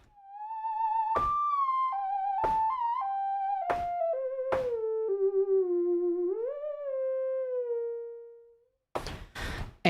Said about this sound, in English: first there's a really short convolution reverb, which makes it sound like this.